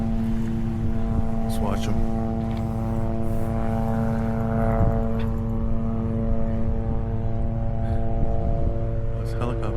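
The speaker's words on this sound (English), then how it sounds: "There's a sightseeing plane." A sightseeing propeller plane drones steadily overhead near Magic Island at Ala Moana Beach Park, a loud, even engine hum that a person briefly talks over.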